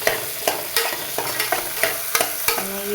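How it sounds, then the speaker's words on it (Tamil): Onions sautéing in oil until half cooked, a steady close frying sizzle broken by sharp, regular clinks of a spoon stirring against the pan about every half second, with no talking. "நல்லா வெங்காயம் அரை வேக்காடு வதங்குங்க."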